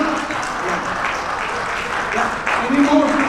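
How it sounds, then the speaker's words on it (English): Applause from a panel discussion audience, steady and moderately loud throughout, with a voice talking over it near the end. "a big round of applause for them"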